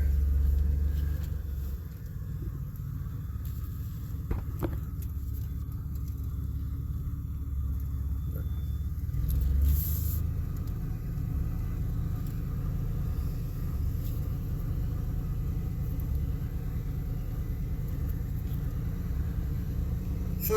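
A 1988 Chevy truck rolls slowly in first gear, its engine giving a steady, close, low rumbling drone that holds even throughout with little change in pitch.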